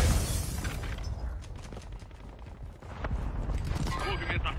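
A grenade blast in a multiplayer shooter game rumbles loud and dense under Portuguese-speaking players' voices, with low booming energy and scattered gunfire-like crackle throughout.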